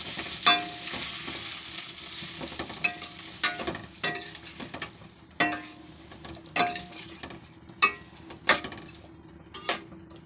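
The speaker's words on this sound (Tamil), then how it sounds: "நல்லா கிண்டி விட்டுக்கிட்டே இருக்கணும்" Chopped tomatoes are stirred into fried onions in a pan, with repeated sharp spoon scrapes and clinks at irregular intervals over a steady sizzle, close and clear, with no talking.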